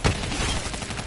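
A gun firing in a zombie video game: a loud, rapid burst of close shots that forms a continuous crackling roar for about a second.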